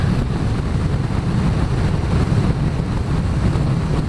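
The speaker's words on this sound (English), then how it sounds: "Get a little bit of wind" Heavy, continuous wind buffeting the microphone during a motorcycle ride, a loud low roar that stays steady from start to finish with no voices.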